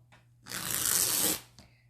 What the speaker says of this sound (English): I'm going to cut along the length using my fabric scissors, and I'm just going to cut that little white part off.